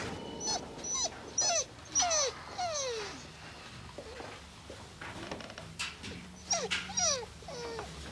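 A dog whimpers and whines in repeated short, high descending cries, close by, with faint background noise and no clear talk.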